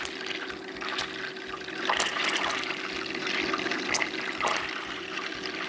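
Butter browning in a pan for a pistachio cake, giving a steady soft fizzing and sizzle with faint crackles, close and moderately quiet, with no talking.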